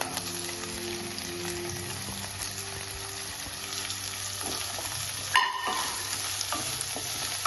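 Finely chopped onion sautéing in oil for a breakfast curry, a continuous close sizzle with stirring, and one sharp scrape of the spoon on the pan near the end.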